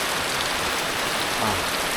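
Steady rain pours down in a dense, unbroken hiss that stays loud and even throughout, with no voices.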